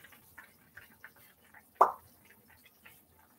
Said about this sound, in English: when you look at how your skillet is bubbling and it's boiling